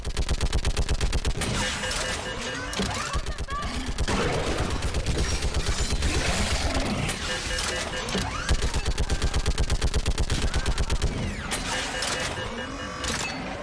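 Rapid, sustained fire from a mounted gun in a video game, a dense stream of loud shots hammering almost without pause, with battle noise mixed throughout.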